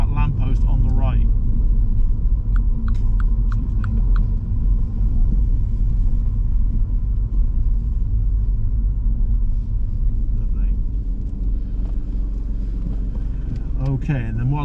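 Learner driver's car on a mock driving test in Swindon, a steady low engine and road rumble inside the cabin throughout, with a few faint clicks and brief voices.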